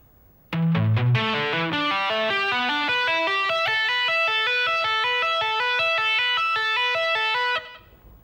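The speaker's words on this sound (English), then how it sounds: "we're going to tap 12, pull off to 5, hammer on 7" Fast, fluid electric guitar notes cascade in a rapid continuous run of right-hand taps, pull-offs and hammer-ons with effects, in funk rock style, ringing evenly for several seconds before stopping.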